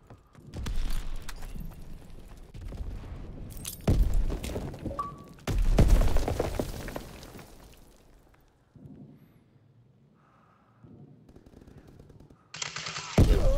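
Grenade blast and rapid gunfire in a competitive multiplayer shooter match, loud bursts of shots and thumping explosions coming in waves with quieter gaps between.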